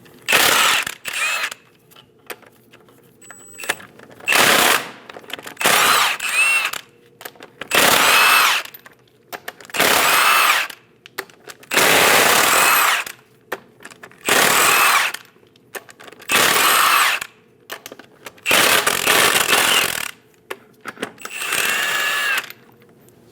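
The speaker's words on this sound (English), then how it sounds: "Using a 22mm socket, remove all 8 lug nuts." A power tool with a 22mm socket spins lug nuts off a 2001-2006 Chevrolet Silverado wheel in about a dozen loud, ratcheting bursts, each lasting a second or two, separated by short near-silent pauses.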